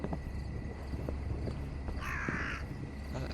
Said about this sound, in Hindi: अरे कौवा है, शांत बैठ बेटा।